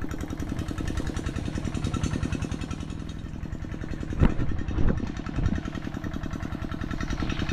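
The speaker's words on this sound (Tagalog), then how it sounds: "Chainsaw lang natin yung makina." A chainsaw engine runs steadily at a close, even throttle with a buzzing, pulsing drone, rising briefly in a couple of short revs, outdoors with no talking.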